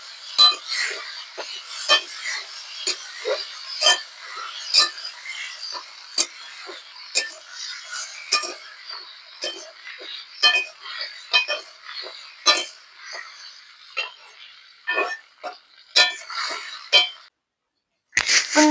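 Green chilies and tomato frying in a pan, a fairly quiet stream of irregular crackles and sharp sizzling pops with no talk.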